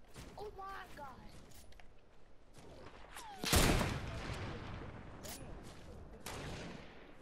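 Gunfire crackles nearby in a first-person shooter, with a loud burst of shots around the middle standing out over scattered quieter pops and an ongoing background mix, while a voice talks over parts of it.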